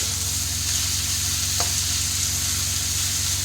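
Onions fry in a pan for egg curry, cooking until brown. The sizzle is loud and constant, with a single faint click midway and no voices.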